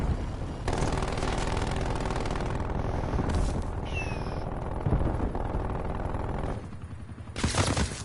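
Automated sentry turret in a Call of Duty match firing sustained bursts of rapid gunfire, loud and continuous with brief pauses and sharp shots near the end.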